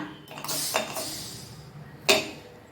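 Lid of a pressure cooker holding cooked urad dal being opened after cooling, a few close metallic clanks and rattles, with a sharp clink near the end.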